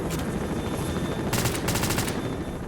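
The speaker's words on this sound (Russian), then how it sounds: "Вот вертолет, нормально." Helicopter in the S.T.A.L.K.E.R. video game, a rapid rhythmic rotor chop over a broad rumbling roar, swelling louder midway and then easing back.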